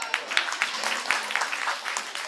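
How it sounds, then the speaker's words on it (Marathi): Crowd applause at a Mangalagaur celebration, a steady patter of many hands clapping at moderate volume, somewhat distant, with faint voices mixed in. "काकांसाठी जोरदार टाळ्या"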